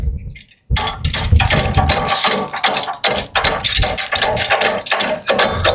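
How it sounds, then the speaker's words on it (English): An 18-inch DK2 gas trencher running as its digging chain is lowered: the small engine sits idle briefly, then a loud, close, continuous mechanical clatter and churn follows, with rhythmic surges as the chain works. "To demonstrate that, you're going to lean it back, come here while the machine's on, lower this down"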